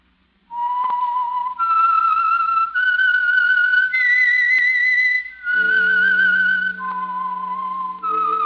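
A lone whistled melody serves as the signal tune for the old radio program The Whistler, clear and prominent, rising step by step through sustained notes before falling back down, with soft orchestral tones entering beneath the later notes.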